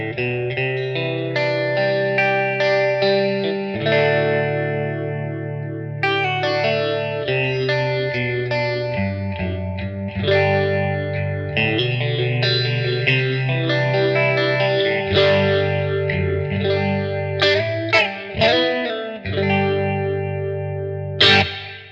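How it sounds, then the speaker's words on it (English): Guitar through an 8-stage phaser pedal set very subtly, loud clean chords and melodic phrases with a gentle swirling shimmer, played continuously without talk. "we can set an 8-stage phaser really, really subtly"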